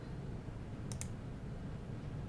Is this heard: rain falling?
no